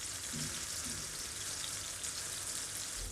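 Tandoori tikka pieces frying in oil over a low-medium flame, a soft, even, continuous sizzle heard close and fairly quiet, with no talking.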